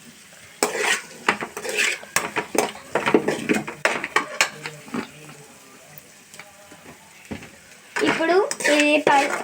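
A spoon clinks and scrapes against a metal cooking pot as salt and turmeric are stirred in, in irregular bursts of clatter with brief pauses, while a voice speaks briefly.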